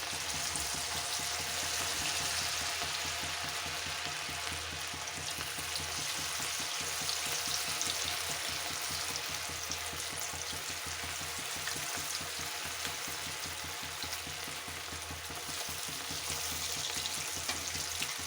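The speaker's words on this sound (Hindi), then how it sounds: "तेल गोभी फ्राई के लिए तेल गरम हो चुका है। एक एक करके गोभी डालेंगे।" Cauliflower florets frying in hot oil over a high flame, a steady, dense crackling sizzle that holds close and even throughout with no voices.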